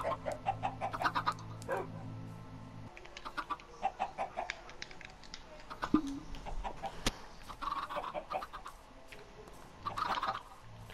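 Minecraft chickens cluck in short, scattered bursts across the scene, with a steady low hum underneath in the first seconds.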